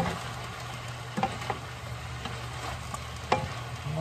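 Kung Pao beef with broccoli stir-fried in a pan, soft sizzling under a few scattered scrapes and knocks of the utensil, close up and fairly quiet, with no voices.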